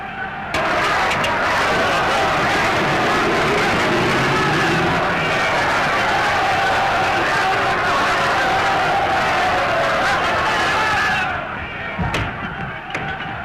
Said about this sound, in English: The crowd outside are in a terrible state of excitement.